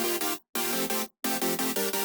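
Plain synth chord layer for a drum and bass drop, heard as bright stuttering chord stabs in repeated rhythmic groups with abrupt gaps, loud and upfront, no voices.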